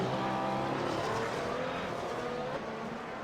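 Race car engines and tire squeal during a crash in the iRacing video game at an Oceanic F1 Championship round in Montreal, a steady loud engine roar with skidding and no clear impact, heard alone.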